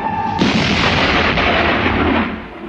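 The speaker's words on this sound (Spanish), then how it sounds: "Un cañón dispara a la silueta de un caballo." A cannon fires during a film title sequence, a sharp blast followed by a long rolling boom and decaying rumble filling the rest of the moment.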